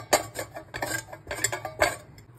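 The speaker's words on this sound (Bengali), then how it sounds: "আমগুলো ঘষা হয়ে গেছে।" Peeled raw mangoes are rubbed against a metal grater in short, rhythmic scraping strokes, roughly four clear rasps, close and fairly loud with brief pauses between them.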